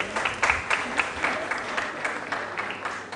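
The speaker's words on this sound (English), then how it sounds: "Ladies and gentlemen, a round of applause." An audience applauds a correct answer at a quiz competition: moderate, fairly even clapping with a few louder bursts, somewhat distant and without talk over it.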